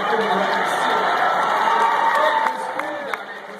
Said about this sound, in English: see how we're getting kind of a half applause?